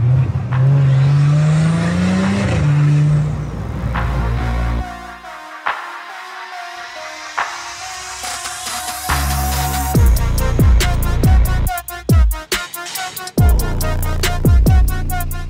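Audi SQ5 SUV fitted with a loud aftermarket exhaust revs hard, its engine note rising and falling in long sweeps, with turbo whooshes, sharp crackles and pops bursting through in the second half, loud and close with no talk.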